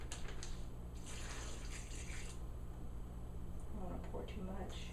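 Chicken fajita marinade is poured from a container into a Ziploc bag, giving a steady, faint liquid splashing and trickling that runs through the whole stretch, with a voice briefly audible near the end.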